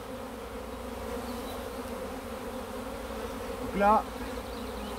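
A honeybee swarm pours out of a hive in a dense, steady buzz that fills the whole stretch, with a brief spoken phrase near the end.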